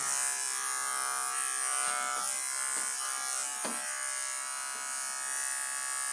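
An electric hair clipper set to a 3 mm guard buzzes steadily and close during a self haircut, a constant high motor whine with a few brief dips as it moves through hair, no voices.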